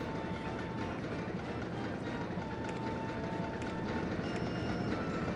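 Roller coaster trains rolling along their track in the RollerCoaster Tycoon game, a continuous rumbling clatter of wheels with faint squeals and clicks, steady and alone without voices.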